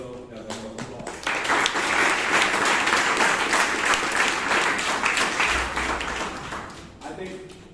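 Full room of applause at a Toastmasters club meeting in Bangalore, swelling after a second into sustained dense clapping that fades near the end, with some voices mixed in.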